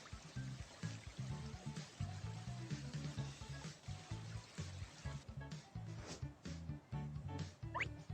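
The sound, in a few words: tap filling swimming pool with water, Baby Bus video game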